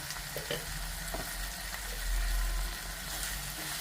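A wooden or metal spoon stirs raw mango and prawn skin curry with chili powder, turmeric and salt in a hot pan, a steady close sizzle and scraping mix with no voices.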